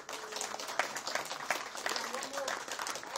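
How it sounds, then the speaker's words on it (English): Brief, fairly faint applause from an audience at an outdoor Veterans Day ceremony, scattered claps blending into a steady patter. "let's give ourselves and give those veterans a round of applause"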